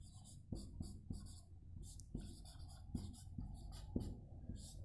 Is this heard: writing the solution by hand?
yes